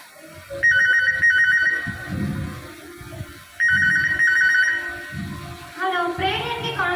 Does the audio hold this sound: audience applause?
no